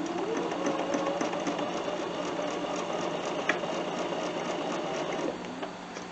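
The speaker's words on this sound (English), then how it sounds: "start my seam and just sew down" A Bernina sewing machine stitches a quilt block seam in a steady, fast, even mechanical hum with rapid needle ticking, close and continuous for several seconds, with no voices.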